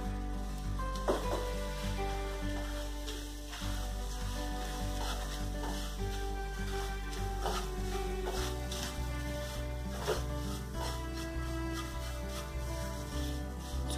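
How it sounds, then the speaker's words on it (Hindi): Semolina roasting in ghee in a pan while being stirred, a soft continuous sizzle with scraping strokes running steadily throughout, alone with no voices. "अब इसी घी में हम सूजी को भून लेंगे।"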